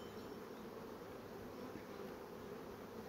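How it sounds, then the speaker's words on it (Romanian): Honeybees buzzing steadily around hive frames during beekeeping, a dense continuous drone close by, fairly quiet, with no speech. "ce face albina asta?"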